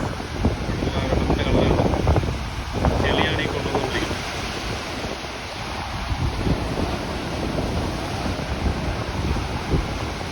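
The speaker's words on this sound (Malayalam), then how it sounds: "ഇതിലേന്ന് തന്നെ കടൽ വീണ് വരുന്നുണ്ട്" Rough sea surging against the shore during a seasonal swell, with steady broadband wave wash and gusting wind buffeting the microphone throughout, loud and continuous with no clear separate breakers.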